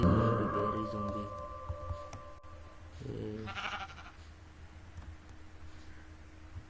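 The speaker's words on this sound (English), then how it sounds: "You see this sheep?" Sheep in a video game give a few short, wavering bleats, one stronger call standing out in the middle, over a steady hum of game background sound.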